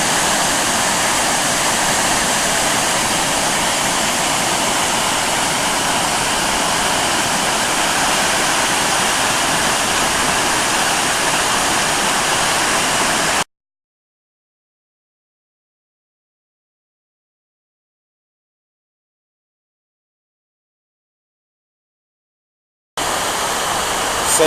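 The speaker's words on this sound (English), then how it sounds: "The main Apsley Falls in a bit of a flood flow at the moment. Absolutely thundering, and there's spray everywhere here." Apsley Falls in Oxley Wild Rivers National Park thunders in flood flow, a loud, unbroken roar of falling water and spray that cuts out abruptly partway and returns briefly at the end.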